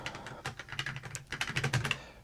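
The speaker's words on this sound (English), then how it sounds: "I'm on my split keyboard, so my typing is going to be funny" Fast, irregular clicking of keys on a split computer keyboard, close and fairly quiet, with rapid bursts of keystrokes and brief pauses and no voices.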